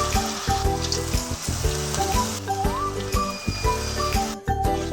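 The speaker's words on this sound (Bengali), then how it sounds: "লাল লাল করে ভেজে নিয়েছি।" Potato fingers fry in hot refined oil in a kadai, giving a loud, close, continuous sizzle with crackling bursts and a bubbling texture, steady throughout without any talk.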